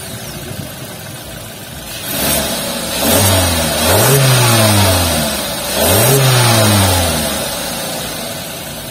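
A Suzuki XL7 Zeta with a 1500cc engine starts up, cranking and catching at about two seconds, then revs rise and fall twice in clear swelling sweeps before settling toward idle, close and loud with no talk.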